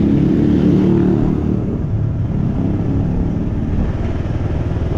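Motorcycle ridden by a helmetless rider passing along a small-town street in Itatuba, Paraíba, Brazil, a steady loud engine rumble that swells early and holds close throughout, with no talk over it.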